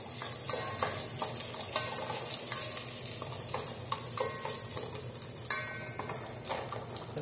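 Garlic and ginger frying in a pan give a steady, close crackling sizzle, broken by scattered stirring clicks and scrapes throughout, with no voices.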